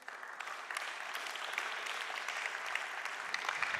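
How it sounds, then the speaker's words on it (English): Audience applause at a green awards ceremony, a dense, even patter of clapping from a seated crowd, fairly faint and steady throughout. "give him a big round of applause"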